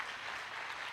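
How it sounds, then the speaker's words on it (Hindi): Brief burst of audience clapping at a motivational talk in India, a dense steady patter of many hands lasting under a second without voices. "तालियां।"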